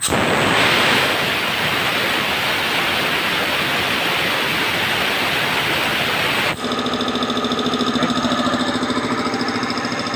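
A Multipro VBC 300 air compressor runs with a loud, steady hissing roar, then switches abruptly to a harsher mechanical hum with a tonal whine that continues close by to the end.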